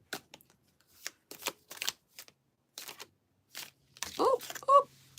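Oracle cards are shuffled in a series of short, crisp riffling bursts close by, with pauses between, ending with a faint murmur.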